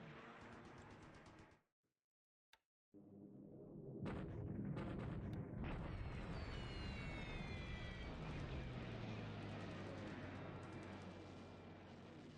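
Aircraft in a video game set in early 1942, with Wirraway and B-17 planes, roar loudly after a short silence and a sharp crack, with bursts of strafing gunfire and explosions over a sustained engine drone.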